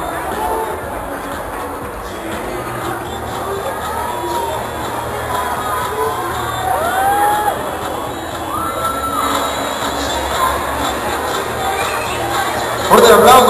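A crowd at a TNT event applauds and cheers for a cardboard-and-wood pyramid-head costume, a dense, continuous roar of clapping and shouting children's and adults' voices with whistle-like calls, swelling briefly near the end.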